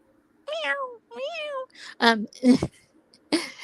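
A cat gives two drawn-out meows close by, then several shorter, rougher calls mixed with a person speaking.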